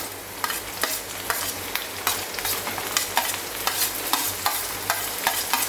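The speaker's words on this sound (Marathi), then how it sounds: "आता ह्यात आपण बारीक चिरलेला टोमॅटो आणि बारीक चिरलेली मिरची घालणार आहोत" Finely chopped tomato and green chili frying with browned onions in a pan, a steady close sizzle broken by frequent quick stirring scrapes in a loose, regular rhythm, with no voices.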